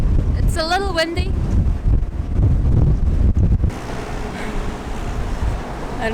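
Gusting wind buffets the microphone in heavy low rumbles on a ferry in heavy rain, with a brief voice at the start, then settles into a steadier windy roar.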